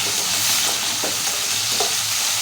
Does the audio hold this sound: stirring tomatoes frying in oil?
yes